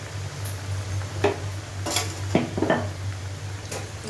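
Khaja frying in hot oil in a pan on a low gas flame, stirred with a utensil: a few scattered light metallic scrapes and clinks over a steady low hum, with no talk.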